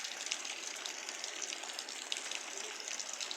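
Heavy rain pouring down in a dense, even hiss, steady and moderately quiet throughout with no voices.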